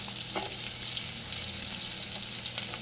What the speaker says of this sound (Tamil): இது பூண்டு வதங்கி வந்துருச்சு. வெங்காயம் நல்லா வதங்கி வந்துருச்சு.